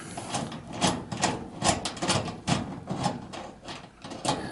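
A socket wrench turns a nut on a clothes dryer's terminal block, giving faint, repeated ratcheting clicks in an irregular rhythm, close up and quiet.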